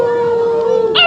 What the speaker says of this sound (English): A wolf. You got it. A wolf.